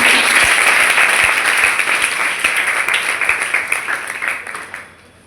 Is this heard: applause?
yes